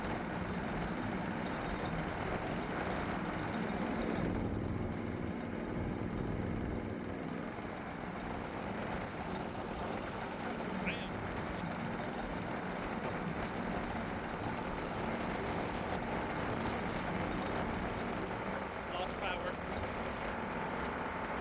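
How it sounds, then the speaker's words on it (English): A dual engine golf cart with a Predator 420 gasoline engine runs at full throttle, a steady loud droning engine roar that holds for the whole stretch with faint wind noise. "now we're going to do a full throttle acceleration"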